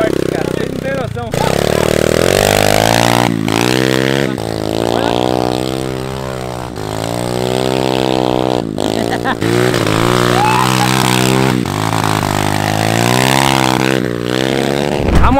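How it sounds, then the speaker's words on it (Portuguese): A mini motorcycle engine revving hard while riding through mud, loud and near with rising and falling pitch as the throttle opens and closes, broken by brief dips. "Eu não dava muita fé nessa mini moto, mas ela é muito forte"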